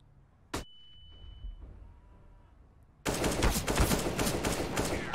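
A PP-Bizon submachine gun in a video game fires a rapid sustained burst, loud and dense, after an earlier single sharp shot and a quiet stretch of faint game sounds.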